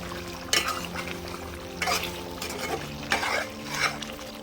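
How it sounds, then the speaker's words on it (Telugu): A spoon scrapes and stirs chicken curry in a pan with coriander leaves just added, giving three loud bursts of scraping at even intervals over a low simmering sizzle, with no talking. "ఒకసారి తిప్పుకుందాం"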